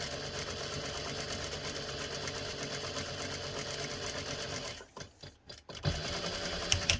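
A sewing machine stitches a fabric cat collar with a steady, close mechanical whir, stopping briefly near the end before it resumes running.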